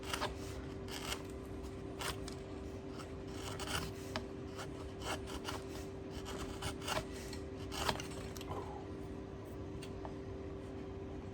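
A chisel pares and carves a wooden brace for a guitar's live back, making quiet, repeated scraping and rasping strokes at close range.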